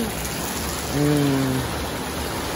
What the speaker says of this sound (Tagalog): Lumakas yung ulan ngayon mga ma'am.